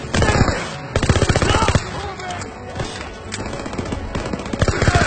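Bursts of SMG fire in Call of Duty's WWII opening, sharp rapid rattling volleys close and loud, broken by short pauses, while someone talks over the shooting.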